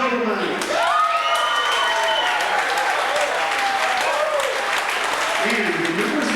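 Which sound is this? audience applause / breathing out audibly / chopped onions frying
audience applause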